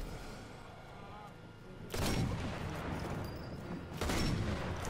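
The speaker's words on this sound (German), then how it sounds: "Kopfschuss, bam." Two loud, sharp sniper rifle shots from the game Sniper Elite 4 crack out about two seconds apart over a quiet, murky ambience, each followed by a brief, rolling tail.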